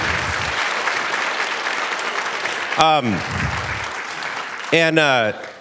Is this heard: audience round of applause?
yes